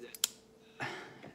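A few sharp mechanical clicks from a multi-tool's spring, one crisp snap early on, followed by a brief burst of scraping and handling noise.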